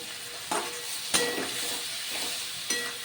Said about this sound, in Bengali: আলু আর টমেটো ভালো করে কষিয়ে নিচ্ছি